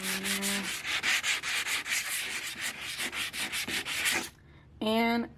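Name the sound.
hand sanding concrete with a 120 grit sanding block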